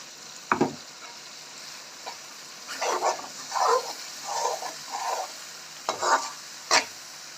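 Eggs frying and being stirred in a pan while cooking noodles, with scraping spatula strokes and soft sizzling bursts in irregular clusters, plus a few sharper clacks, close and moderately loud.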